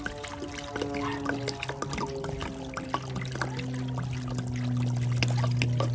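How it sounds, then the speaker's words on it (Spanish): Clean water is poured out in a steady, continuous stream during outdoor cooking of carne adobada tacos, splashing and trickling for several seconds and growing slightly louder toward the end. "Ahí está la agüita. Pura agua limpia."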